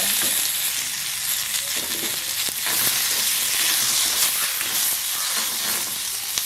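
Mustard seeds, onion and chili sizzle and crackle steadily in hot oil in a pan over a low flame, a loud continuous frying hiss with occasional pops and no talking.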